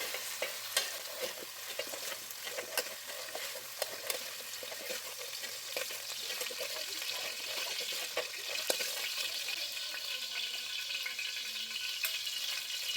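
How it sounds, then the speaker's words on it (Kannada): Potato and drumstick pieces fry in hot oil with a close, continuous sizzle and crackle, broken now and then by stirring scrapes, with no talking. "ಒಂದು ಎರಡು ನಿಮಿಷ ಈ ರೀತಿ ಎಣ್ಣೆನಲ್ಲಿ ಫ್ರೈ ಮಾಡಿ"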